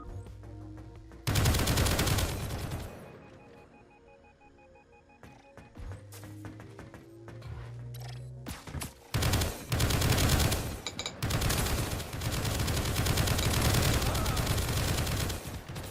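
Automated turrets in the game Project Onyx fire in several long, loud sustained bursts separated by brief pauses, with electronic tones and beeps between them.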